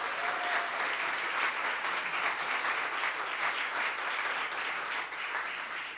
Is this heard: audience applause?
yes